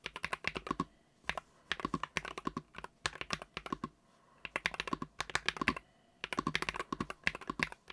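Steady typing on a NuPhy Field 75 HE Hall-effect keyboard with white magnetic switches, close and clear, fast bursts of crisp keystrokes separated by short pauses.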